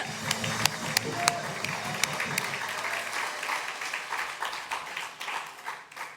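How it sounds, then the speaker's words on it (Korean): A congregation claps together at a university chapel worship service, steady applause filling the room with some voices mixed in, lasting throughout before easing slightly toward the end. "힘있게 박수도 힘있게."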